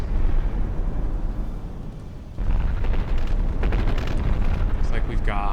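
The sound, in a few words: video game battleship gunfire and missile explosions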